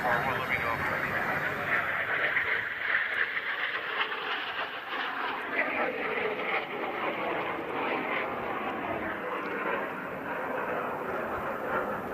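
A Cessna A-37 Dragonfly light attack jet flies past at the Hill Air Show 2024, a steady broad jet roar that swells and fades slightly over the clip, with an announcer talking over it.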